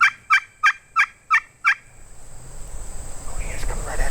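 A wild turkey hen in the Texas Hill Country yelps six times in a steady, loud, close rhythm, after which only quiet outdoor rumble and ambient noise remain.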